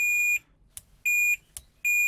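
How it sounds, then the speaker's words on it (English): UNI-T UT33-D multimeter continuity buzzer giving three steady high-pitched electronic beeps, each lasting about a third of a second, separated by brief gaps with faint clicks of the probes touching, close and alone. "There is about half a second delay, so not very good buzzer, unfortunately."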